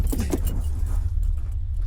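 Keys jangle and rattle in quick bursts at close range during a ghost hunt in a university bathroom, over a steady low rumble, then fade into quiet.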